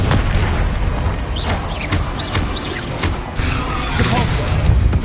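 Spell explosions from Confringo attacks in the Hogwarts Legacy video game: repeated booming bursts and pops over a dense, loud game soundtrack with shouted spell incantations mixed throughout.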